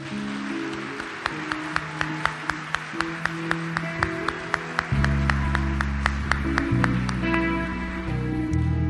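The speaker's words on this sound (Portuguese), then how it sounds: "Então vamos dar um aplauso ao Senhor por esse tempo?" A church congregation applauding during a service: steady clapping sustained throughout, with sharp individual claps standing out and a low instrumental drone swelling underneath midway.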